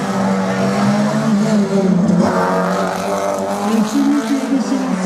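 A race car at a slalom event in Saint-Lô accelerates through a chicane, its engine note rising and falling loudly and continuously while a commentator talks over it.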